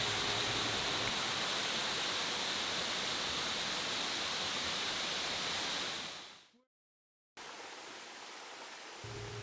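Isabella Falls in Australia pours in a loud, steady broadband rush. The roar cuts off abruptly near the end, goes silent for a moment, then returns at full strength.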